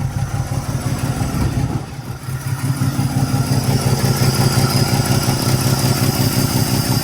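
A car engine fitted with a Carter downdraft carburetor idles steadily while warming up, with a low, rhythmic chug and faint clatter, dipping briefly before settling back into a constant, close rumble.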